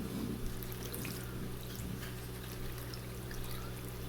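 Salt brine pours in a steady stream over cabbage for sauerkraut, a continuous close splashing trickle with no speech.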